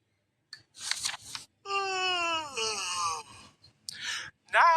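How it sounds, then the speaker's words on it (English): A long, drawn-out vocal yawn with a falling pitch, framed by breathy sighs and short exhalations, close and fairly loud; a voice performing the yawn. "He stretched and yawned loudly."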